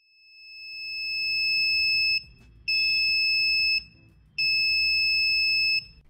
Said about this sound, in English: When an object comes close to the sensor, the system detects it and sounds the alarm.